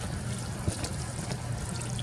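Water trickling and splashing softly as a hand tests it, a steady close wash of liquid with a small splash partway through.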